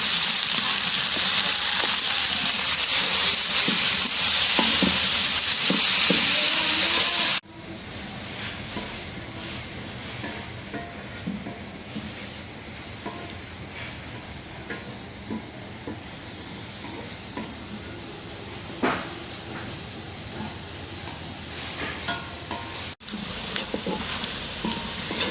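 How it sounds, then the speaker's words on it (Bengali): Chicken meat fries with chopped onions in a pan for a spicy chicken kosha, a loud steady sizzle at first that settles into quieter frying with occasional stirring scrapes. "এখন মাংসটাকে ভাজুন পেঁয়াজের সাথে।"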